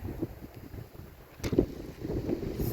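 Wind buffets the microphone on a Cornwall beach in low rumbling gusts, swelling and easing, fairly close and moderately loud with no voice heard.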